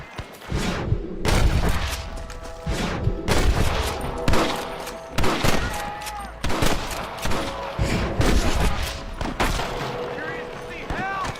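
Gunfire in Red Dead Redemption erupts in a dense, loud volley of rapid shots and booming reports, overlapping and repeating across a sustained shootout.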